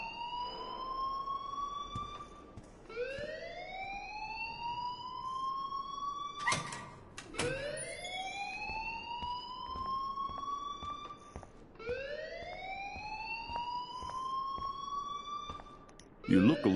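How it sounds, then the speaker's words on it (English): An electronic alarm in the video game Life is Strange rings in repeating rising wails, each sweeping upward over a couple of seconds, with brief clanks between cycles. "please turn off that alarm since that's your job"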